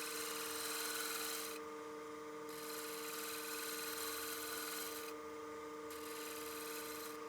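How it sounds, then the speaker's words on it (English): A woodturning lathe spins a partially seasoned bowl while a tool shear-scrapes the surface, making a steady motor drone under a bright hiss of cutting that lifts off twice for a moment. "with that shear scrape, I can section off just a small amount of the area or a small amount of the turning"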